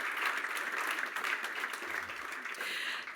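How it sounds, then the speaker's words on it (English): Conference audience giving a round of applause, a steady wash of clapping at moderate level across the whole stretch, heard from a distance in a hall. "And now we can give everyone a round of applause."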